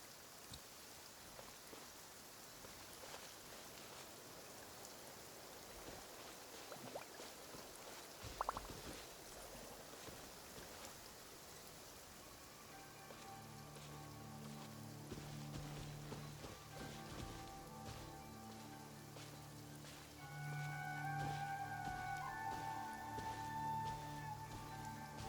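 Rain falls steadily in Genshin Impact, a soft continuous patter throughout, with a brief knock partway through and game music rising under it in the second half.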